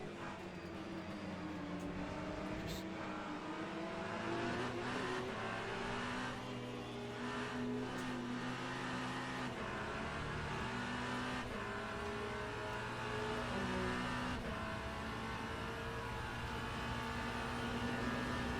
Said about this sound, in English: that Porsche sounds pretty spectacular.